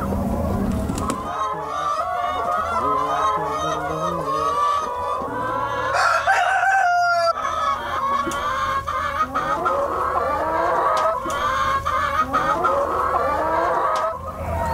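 Chickens cluck and squawk continuously nearby, with a rooster crowing partway through amid the busy flock chatter.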